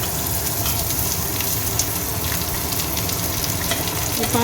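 Katwal, a wild monsoon vegetable, frying with onions in a pan: a loud, steady crackling sizzle with occasional stirring clinks.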